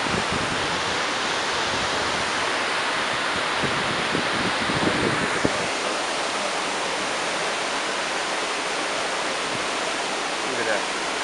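Hurricane Irene floodwater in Stony Point, New York, rushes in a constant, dense roar, a loud and unbroken wash of surging water that fills the whole scene with no pauses.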